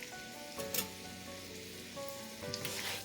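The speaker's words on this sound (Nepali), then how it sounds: "अब यसलाई चलाउँदै चलाउँदै तामालाई केही बेर फ्राई गर्नुपर्छ" Chopped bamboo shoots fry in a pan with salt, giving a faint, steady sizzle with a few soft stirring clicks.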